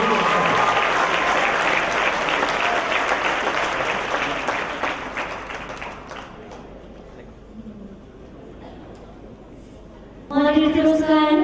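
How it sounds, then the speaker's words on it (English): Audience applause for a university performance group, a dense, loud wash of clapping that gradually thins and fades before a voice begins speaking at the end. "Another big round of applause to the FJIS University."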